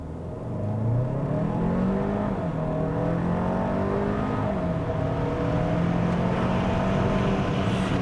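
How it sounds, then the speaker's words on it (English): A 2021 Hyundai Santa Fe Calligraphy SUV floored from a standstill, its engine note climbing steadily through several upshifts, a loud sustained in-cabin drone with rising pitch between gear changes. "We're just gonna floor it from a stop here and see how it performs."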